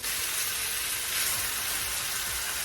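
Beef hits a hot stir-fry pan with minced garlic and ginger, giving a steady, dense sizzle that holds at even loudness for a couple of seconds with no voices over it.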